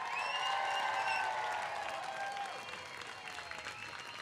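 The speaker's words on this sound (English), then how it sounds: "Let's give the class of 2022 a big round of applause." Sustained applause from a large graduation audience for the Keck School of Medicine Primary Care Physician Assistant Program class of 2022 at a USC commencement ceremony, steady and full, fading slightly toward the end, with a few cheers over it.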